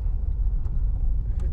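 A car engine idles with a low, steady rumble close by, holding an even hum throughout the short stretch with no revving.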